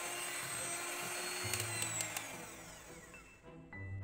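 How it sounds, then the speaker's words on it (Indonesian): An electric mixer whirs at high speed, beating cake batter for a baked sponge cake made without leavening; a steady motor whine with shifting pitch continues until it cuts off near the end, fairly faint overall. "Setelah tercampur, mixer dengan kecepatan tinggi sampai mengembang."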